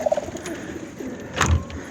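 Pigeons coo in a loft where dozens of birds are kept, a low soft call swelling near the end over a busy background of rustling and faint bird chatter.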